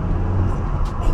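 A manual car moving off again after braking in traffic, its engine a loud, steady low rumble with road noise and a brief hiss near the end.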